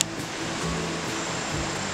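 Steady broadband rush of the Zacate river flowing near La Merced del Potrero, Oaxaca, a continuous loud wash of water with no gaps and no voices.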